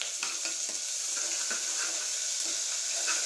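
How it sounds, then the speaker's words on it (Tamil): Ginger garlic paste frying with mutton in a pan for a wedding-style mutton curry, a steady loud sizzle with scraping stir strokes breaking through at intervals, no talk. "இப்போ இஞ்சி பூண்டு பேஸ்ட்டு போட்டுரும்"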